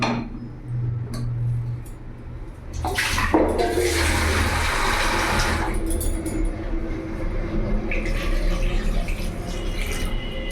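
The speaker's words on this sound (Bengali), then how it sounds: "জল দিয়ে দিলাম, এরই মধ্যে 1 চামচ লবণ দিয়ে দিলাম।" Water pours steadily into a pressure cooker holding potatoes, a close, rushing splash that swells after a few seconds and keeps flowing.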